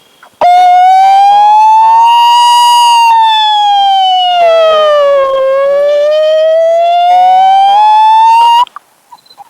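A voice imitates a fire engine siren in one long, loud wail that slowly rises, falls and rises again, close and alone.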